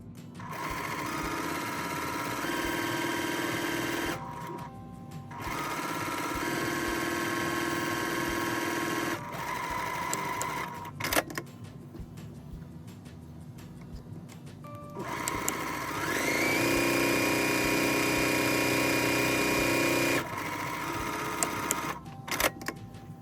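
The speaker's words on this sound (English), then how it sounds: "Next, you're going to sew down that folded edge." A sewing machine stitches down a folded fabric edge on a boxy zippered pouch, running in several sustained bursts of steady, whirring, rhythmic needle action separated by brief pauses, close and clear with no talking.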